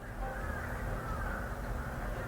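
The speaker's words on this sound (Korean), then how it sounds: "갑자기 왜 이렇게 까마귀 소리가 들리지?" Crows caw outside, faint and distant, a drawn-out call carrying over steady indoor room noise.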